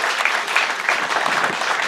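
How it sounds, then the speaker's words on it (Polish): Crowd applause honoring a referee's jubilee during a lower-league football match broadcast, a brief, dense and steady burst of clapping heard close and loud. "Myślę, że jeszcze raz zasłużył na brawa."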